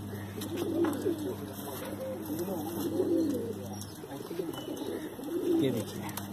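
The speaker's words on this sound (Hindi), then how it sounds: "कलदुम्मा कबूतर है ये, कलदुम्मा कलंका, काली आंखों में जो होते हैं।" Kaldumma pigeons with dark eyes coo in soft rolling bursts, three swelling phrases spaced a couple of seconds apart over a steady low hum and faint background chatter.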